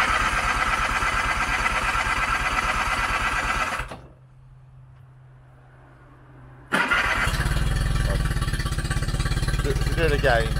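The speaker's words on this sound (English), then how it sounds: "Here we are doing a cold start on this Yamaha 25 horsepower." A Yamaha 25 horsepower outboard engine runs with a loud, rapid, buzzing idle, cuts out into a few seconds of near silence, then restarts abruptly and keeps running strong.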